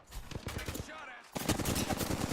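Rapid bursts of automatic gunfire in an Apex Legends match, a dense volley, then a short lull, then another loud stretch of fast shots.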